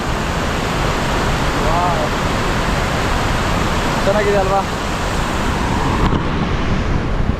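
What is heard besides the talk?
water released from Vani Vilasa Sagar dam rushing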